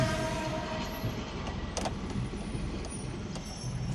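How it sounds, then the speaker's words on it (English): A train rumbles steadily nearby with a low mechanical drone and occasional rattling clanks, no talking. "It's a friggin' train, man."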